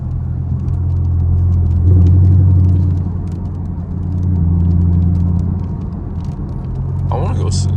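A Camaro SS on a rainy highway gives a heavy, continuous low engine rumble with road roar from inside the cabin. The drone swells and eases with speed, and there are small rattles and clicks near the end.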